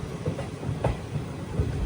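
Kanchanjungha Express train running past a station without stopping, a steady loud rumble of wheels and carriages with faint clickety-clack beats throughout.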